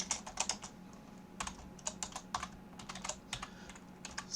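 Quick bursts of keystrokes on a computer keyboard type expressions into a command line, clicking close and fairly quiet in irregular clusters with short pauses and no talk.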